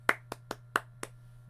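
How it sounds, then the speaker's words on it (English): Five sparse, separate claps ring out one after another with short uneven gaps, each crisp and distinct over a low steady hum, sounding like a lone pair of hands rather than a full crowd in the stands. "As you just hear clapping from the stands."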